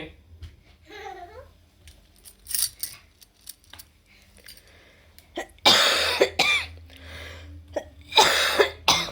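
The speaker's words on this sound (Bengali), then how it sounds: "কাশতে কাশতে বমি উঠে গেছে?" A child coughs hard in several sharp, harsh bursts, clustered later in the passage, with quieter gaps and small indoor clinks between them.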